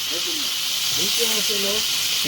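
Chicken frying in hot oil over an outdoor coal fire, a steady loud hiss and sizzle throughout, with a voice talking over it.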